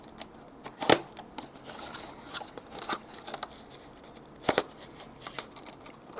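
Knife cutting open a sealed box: scattered close scraping and slicing strokes with crisp clicks and crinkles, two sharper cuts standing out, no talking.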